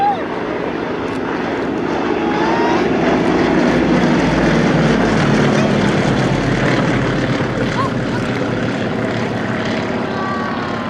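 Propeller aerobatic team aircraft on a final display pass before landing at an air show, a loud sustained droning engine roar holding steady throughout, with an announcer's voice over it.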